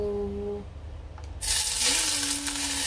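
Boiling water pours and splashes over instant noodles and dumplings in a sudden hissing rush after a brief tone, continuing steadily to the end.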